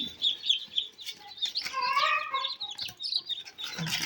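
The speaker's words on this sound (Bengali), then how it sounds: "এইগুলোই হচ্ছে সেই টাইগার মুরগি।" Tiger chickens cluck and chatter close by in a short burst of overlapping calls, busy and continuous, with no talking.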